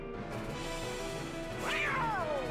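Lucifer the cat meows in the video game Kingdom Hearts Birth By Sleep: a single drawn-out, descending yowl rising over steady game music near the end of the clip.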